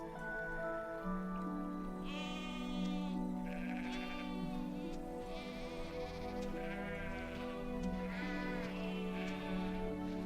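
Several sheep bleat repeatedly, the wavering cries rising and overlapping over a steady background hum and patter.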